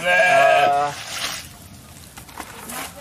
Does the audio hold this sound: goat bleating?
yes